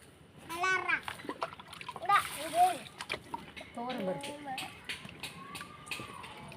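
Toor dal being rinsed in water for sambar rice, with splashing and sloshing in a vessel over several seconds while a child and an adult talk nearby.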